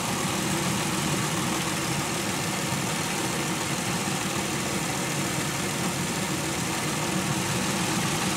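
A Pontiac Aztek engine idling after a radiator replacement, following a month of sitting: a steady, loud, even rumble that stays constant throughout with no talk.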